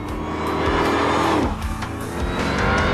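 A 2001 Ford Mustang Roush Stage 3 convertible with automatic transmission and upgraded Bilstein suspension cornering hard on a skid pad, loud engine drone with tires squealing and a pitch drop midway, close and alone.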